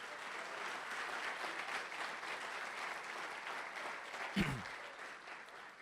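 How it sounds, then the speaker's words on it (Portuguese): A church congregation applauds with steady, fairly distant clapping that fills the whole stretch, with a brief low thump partway through. "Você pode dar um aplauso para Ele?"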